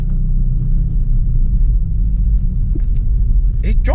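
A cheap hot hatch engine rumbles low and loud from inside the car as it is driven in gear, a steady throaty drone with brief mechanical clunks near the end.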